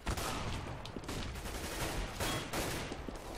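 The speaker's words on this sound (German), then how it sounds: "Schöner Schuss für Neo" Rapid bursts of gunfire in a Counter-Strike match on de_inferno, fast automatic shots crackling in quick succession at a fairly low level, with no voices.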